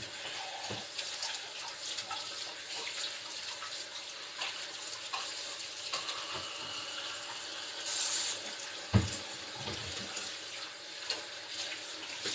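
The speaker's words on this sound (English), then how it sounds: "Let me clean my hands." Running water from a kitchen tap splashes steadily while hands are rinsed during cooking, a soft continuous wash with a brief louder splash near the end.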